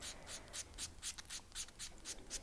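Rhythmic scratchy sanding strokes, about ten even back-and-forth passes of sandpaper over hard Phoenix Torch Fireable fine silver metal clay, close and fairly quiet, no voices.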